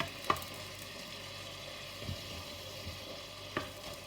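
Beef kidney cooking in a pan, a low, steady sizzle with a few faint clicks and taps of a utensil.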